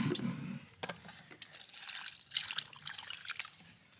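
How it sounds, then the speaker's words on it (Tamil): Dried raw mango pieces (mango vathal) being rinsed by hand in water in a village kitchen, giving soft splashes, drips and light clinks, fairly faint and close, with no talking. "வாங்க அலசிக்கலாம்."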